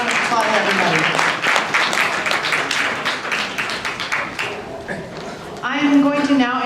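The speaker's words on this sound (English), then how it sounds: "Let's give a round of applause, everybody" A crowd at a gathering with a state House representative gives a round of applause, clapping thick at first and thinning out, with voices and cheering rising near the end.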